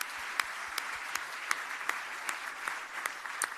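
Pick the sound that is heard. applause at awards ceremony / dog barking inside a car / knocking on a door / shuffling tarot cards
applause at awards ceremony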